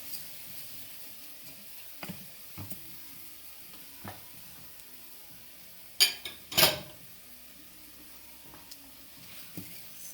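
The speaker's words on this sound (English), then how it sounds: "And we toast the rice." Rice toasting with leeks in a pan for risotto: soft, quiet sizzling under a few brief clinks and scrapes of a utensil against the pan, with two sharper stirring rasps in the middle.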